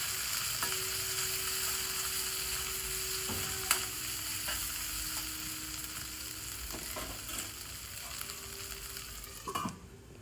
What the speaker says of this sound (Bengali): নেড়ে চেড়ে কষিয়ে নিচ্ছি।